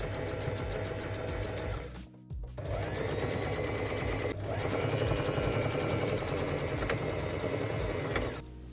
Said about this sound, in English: I'm just going to grab the dress and I'm just basically stitching a straight line down